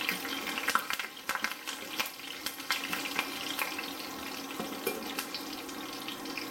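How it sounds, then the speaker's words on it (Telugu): Dried red chillies and curry leaves fry in oil in a pan for a jackfruit kheema curry, giving a steady close crackling sizzle with scattered pops and clinks throughout, no talking. "ఎండుమిరపకాయలు 3, కరివేపాకు కొంచెం వేసి వేయించుకోవాలి"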